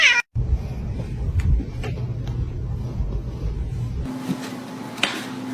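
A cat meows and caterwauls loudly several times, close by, over a low background hum that changes tone partway through.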